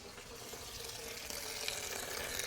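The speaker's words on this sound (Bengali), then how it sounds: "দেখি আগে জলটা বন্ধ করে নিই" A household water tap runs in a steady, fairly soft stream, splashing and gushing into a sink for a couple of seconds, with no voices.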